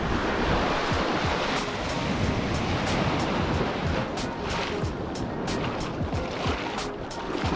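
Ocean surf at Hapuna Beach on Hawaii's Big Island rolls in continuously, a loud, steady wash of breaking waves with wind buffeting the microphone throughout and no voices.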